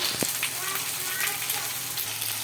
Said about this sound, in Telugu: కారం కూడా నేను ఇందులోనే వేయించేసుకుంటున్నాను